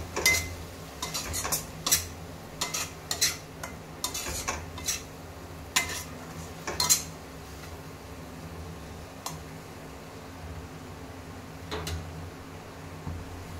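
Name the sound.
spoon mixing ground coriander and cumin spice paste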